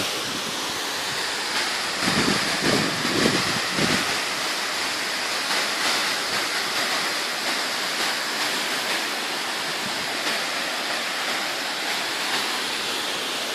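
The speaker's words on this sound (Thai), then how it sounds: "วันนี้มาที่น้ำตกวชิรธานอีกรอบหนึ่งครับ แต่ว่ารอบนี้น้ำน้อยแล้วก็" Wachirathan waterfall in Chiang Mai, running low in the dry April season, gives a steady broadband rush of falling water, moderately loud and continuous, with a short burst of wind buffeting the microphone early on.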